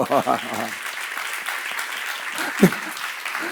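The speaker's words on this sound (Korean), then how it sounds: "아이 박수 쳐요." A church congregation claps briefly during a sermon seminar, a soft, diffuse patter of hands mixed with voices and a brief burst of laughter or speech, fairly quiet in a reverberant room.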